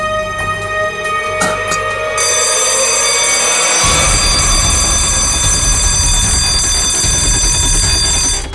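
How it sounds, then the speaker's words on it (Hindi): A loud alarm bell rings continuously and steadily for the whole stretch, with a deep rumbling layer joining partway through, in a tense crime drama scene where a door shuts by itself. "सर अलार्म की आवाज आई"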